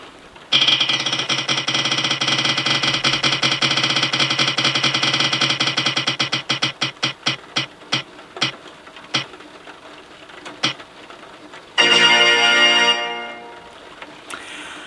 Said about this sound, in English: let's get on and spin the wheel for October